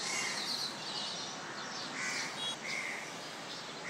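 Crows cawing in a home garden during the monsoon, several harsh calls repeating at irregular intervals over a steady background hiss, fairly close and clear, with no talking.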